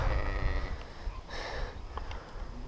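A flock of hogget ewes being moved on foot toward sheep yards for shearing, with faint bleats and rustling over steady outdoor wind noise.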